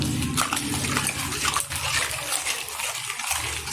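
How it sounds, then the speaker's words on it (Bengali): Water in a pot for plum pickle begins to simmer, giving off soft, continuous bubbling and gentle sloshing close by with faint clinks. "জলটা কিন্তু হালকা ফোটা শুরু হয়ে গেছে"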